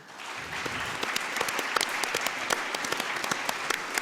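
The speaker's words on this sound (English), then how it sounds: "I think a big round of applause for everybody." An audience at an aquaculture showcase breaks into a sustained round of applause, dense clapping swelling after a quiet start and holding steady, heard from a little distance with no talking.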